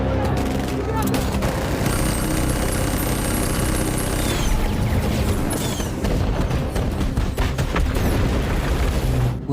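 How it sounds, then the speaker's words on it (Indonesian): Gunfight in an action film: dense, continuous bursts of gunfire and booms fill the whole stretch, loud and close, with voices mixed in under the shooting. "Sebelum mereka berhasil menyentuh Orson, JJ terlebih dahulu mengambil tindakan menyerang mereka dan terjadilah baku tembak."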